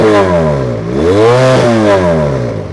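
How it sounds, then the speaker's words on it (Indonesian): Benelli Patagonian Eagle Motobi 250 motorcycle exhaust revving up close, loud and throaty, rising and falling through two blips with a rough burbling tone. "Coba sekarang dengerin bunyi knalpotnya ya. Ini gila banget bunyi knalpotnya."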